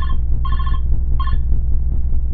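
Old-style telephone ringing in the horror video game Five Nights at Smudger's Remastered, two short electronic ring bursts over a steady low hum, loud and close with no talking.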